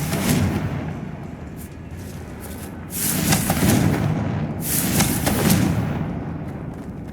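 Confringo blast spells cast in Hogwarts Legacy, two booming bursts with crackling fiery tails, each swelling loudly and then fading, with a rumbling low roar between them.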